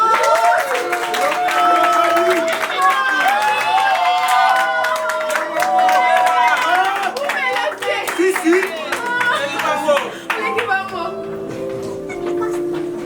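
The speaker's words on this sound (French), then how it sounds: "On acclame." Wedding ceremony guests clap and cheer in a sustained burst of applause, dense and loud throughout, with voices calling out within the crowd noise before it thins toward the end.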